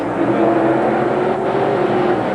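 Pro Stock race cars rumble loudly at the start of a heat at Merrittville Speedway, a dense, steady engine roar from a pack of nearby cars.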